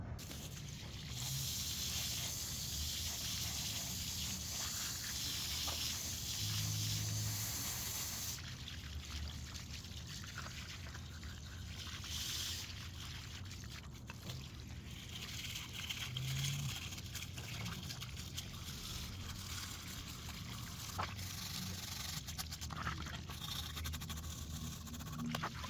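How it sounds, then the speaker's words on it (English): Water from a hose rinses polish off a 1987 Bayliner Capri boat, a faint continuous trickling and spattering wash with soft scraping touches, heard alone and fairly quiet. "I think I'm going to go use the hose."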